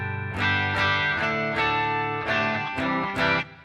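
A clean electric guitar with a light touch of reverb plays a slow run of ringing single notes and chords, each one sustaining and overlapping the next, with no voice.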